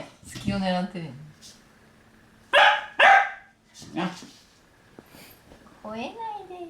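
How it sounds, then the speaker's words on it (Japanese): A Shetland sheepdog puppy playing with a stuffed armadillo toy lets out several sharp, loud barks and yips in short bursts, close by indoors, with pauses between them. "吠えないでよ。"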